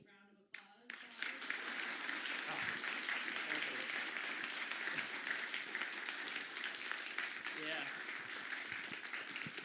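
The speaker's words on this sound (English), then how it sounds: "we will give Tamara a big round of applause" After a brief moment of speech, an audience at a medical school event breaks into applause for a speaker, and the clapping stays steady, moderately loud and sustained to the end.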